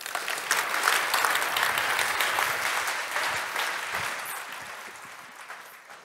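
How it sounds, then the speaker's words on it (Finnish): Audience at a TAT Takeoff 2022 event applauds a speaker, a loud full burst of clapping that swells early and gradually tapers off toward the end. "Annetaan isot aplodit H.P.lle."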